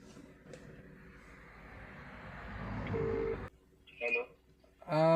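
A phone call to a customer is placed from an Ola/Uber cab at night in Bangalore. A steady ringback tone plays faintly over cabin rumble, then cuts off, and a voice answers on the line.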